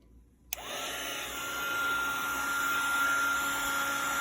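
A heat gun switches on with a sharp click and settles into a steady loud whoosh of blowing air with a high electric whine, heating gold embossing powder on adhesive from beneath.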